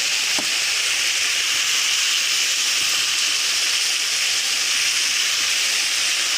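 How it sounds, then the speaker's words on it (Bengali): Green jackfruit, shrimp and potatoes frying together in a pan, with a loud, steady hiss and sizzle close by throughout and no talking. "এখন ইঁচড়া চিংড়ি মাছ আর আলু দিয়ে ভাজা হচ্ছে"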